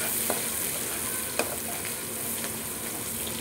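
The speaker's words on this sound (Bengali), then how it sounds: "পেঁয়াজটা আমি হালকা করে ভেজে নিচ্ছি।" Chopped onions fry in hot oil as the base for a spicy boal fish curry, giving a steady, close, even sizzle with a few faint clicks and pops and no talking.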